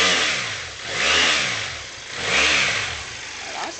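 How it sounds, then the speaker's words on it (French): A BMW F650GS motorcycle engine runs steadily at close range, rising and falling twice in gentle revs. The single-cylinder note is throbbing and mid-pitched, with no voices over it. "Voilà, ça c'est le petit bruit de la moto."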